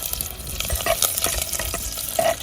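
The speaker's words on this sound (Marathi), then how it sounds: "तेल जरा तरी फोडणीला आपण काय वापरतोय आई लसूण आणि कढीपत्ता" Garlic and curry leaves sizzling in oil in a clay pot over a wood-fired stove, a steady close crackle with stirring scrapes and a couple of sharper pops.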